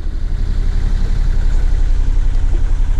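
A sailboat's engine runs steadily at sea, a loud, close low drone with a regular throbbing pulse and a constant rushing wash of wind and water over it.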